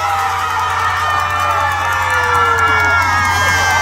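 Members of a singer's fan club cheer loudly at his concert, a thick, sustained crowd roar of screams and high-pitched shouts that swells slightly toward the end.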